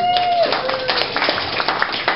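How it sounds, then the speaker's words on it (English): Wedding guests in Costa Rica give a brief, scattered round of clapping for a guest named Val, light and uneven, with some faint background chatter. "Round of applause for Val, please."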